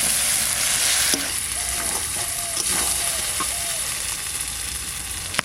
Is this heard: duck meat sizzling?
yes